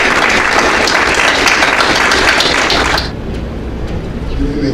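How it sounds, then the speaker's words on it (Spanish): Loud audience applause at a book fair presentation in Lima fills the first three seconds, then cuts off abruptly, leaving a quieter room with faint murmuring. "Un fuerte aplauso para él, por favor."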